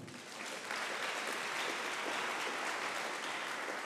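A church congregation breaks into sustained, loud applause during a sermon, a dense wash of many hands clapping that swells in the first half second and holds steady to the end.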